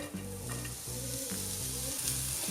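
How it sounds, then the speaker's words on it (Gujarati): Mawa (khoa) roasts in a pan, a soft, steady sizzle under rhythmic stirring that repeats roughly every half second. "હવે માવાને આપણે શેકાવા માટે નાખીશું।"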